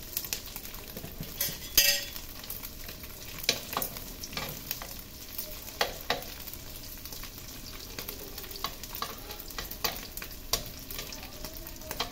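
Squid sizzling and frying in a pan for breakfast, a steady crackle with scattered clinks and scrapes of a utensil stirring against the metal, close and fairly quiet with no voices.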